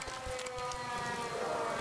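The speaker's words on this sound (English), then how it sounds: "Nope, that was a siren." Air raid siren in the WWI game 1916: Die Unbekannter Krieg, a steady sustained wail held throughout against a rumbling, windy low-end backdrop, fairly loud and continuous.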